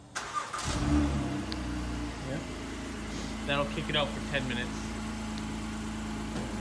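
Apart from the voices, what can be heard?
car engine starting by remote start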